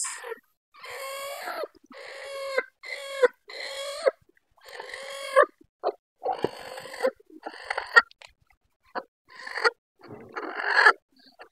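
A brooding hen sitting on eggs clucks repeatedly at close range, a run of throaty, broken calls with brief pauses between bursts.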